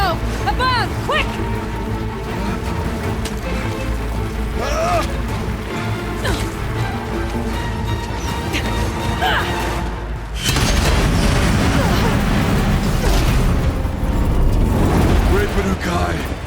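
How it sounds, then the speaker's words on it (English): Bomb blasts in the Horizon Zero Dawn Frozen Wilds game, heavy booming explosions rolling under a dense mix of music and combat noise, with a sharp louder burst partway through followed by continued crashing rumble. "I need explosive ammo! A bomb! Quick!"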